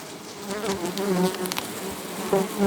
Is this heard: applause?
no